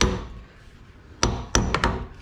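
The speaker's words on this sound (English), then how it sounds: "I'm using a brass hammer." A brass hammer taps a boat trailer wheel hub during bearing and rusty wheel nut maintenance, giving five sharp, close knocks: one at the start, then after a pause a quick irregular cluster of four, with no talking.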